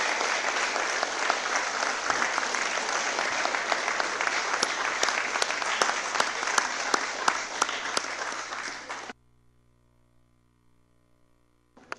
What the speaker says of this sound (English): how about just one more nice round of applause for our new promotion, Sgt Rose, and our new cadets here